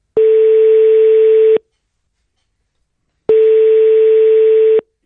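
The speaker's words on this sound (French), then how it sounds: "Il a une bonne sonnerie déjà." Two steady telephone ringback tones, each about a second and a half long, sound loud and close on an outgoing call to a neighbourhood shop, with a long silent gap between them.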